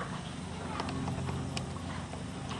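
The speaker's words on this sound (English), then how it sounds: "Very nice collective canter." Horse hooves in a collected canter during a dressage freestyle, soft rhythmic clip-clop beats over a steady background hum, fairly faint.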